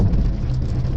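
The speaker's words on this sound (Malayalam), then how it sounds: "രാവിലെ തൊട്ട് മഴ തുടങ്ങി, കാലവർഷം." Steady, heavy monsoon rain pouring down outdoors, a dense close wash of falling water with no voices over it.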